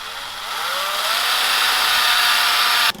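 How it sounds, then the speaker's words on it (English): A power drill fitted with a rubber wheel whines steadily with a broadband grinding buzz as it removes adhesive from a BMW, rising slightly in pitch, then cuts off abruptly near the end. "what we're going to use is one of these rubber wheels. Just put it onto the drill"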